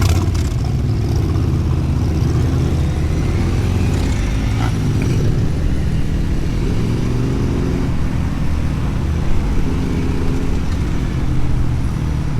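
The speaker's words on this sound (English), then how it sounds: "Surprisingly, for a Sunday, there's a lot of traffic on the roads." Sunday city road traffic rumbles steadily around a helmet-mounted action camera cruising through town, a loud, continuous wash of engines and wind noise with passing vehicles close by.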